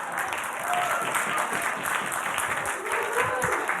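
Audience applause at a conference, a dense, even patter of many hands, with faint voices mixed in beneath the clapping.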